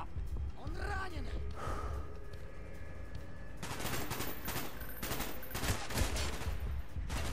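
Gunfire in the Call of Duty Black Ops video game, with dense bursts of automatic shots building in the second half over a continuous game soundscape, with voices and gasps mixed in earlier.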